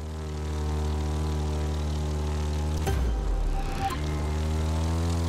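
Propeller airplane engine droning steadily in The Crew 2 racing game, a continuous loud hum with strong harmonic tones, briefly shifting pitch mid-flight during aerial maneuvers.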